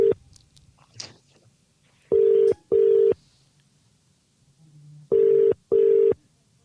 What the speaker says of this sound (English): So It's ringing, Lee.